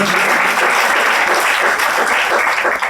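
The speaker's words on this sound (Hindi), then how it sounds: "इनके लिए जोरदार तालियां।" Loud, dense applause from a crowd at a Hindu religious gathering for a legislator, a steady roar of many hands filling the whole stretch without pause.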